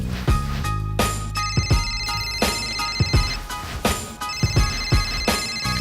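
A phone ringtone plays loudly and close, a repeating electronic melody of bright tonal notes punctuated by sharp rhythmic beats, continuing without talk.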